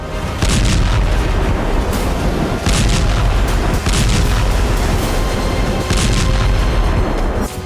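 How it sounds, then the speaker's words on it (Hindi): Heavy explosions from fighting in the Russia-Ukraine war: deep, booming blasts strike every couple of seconds over a continuous low rumble, loud and reverberant, with no voices. "धमाकों की आवाज थम नहीं रही"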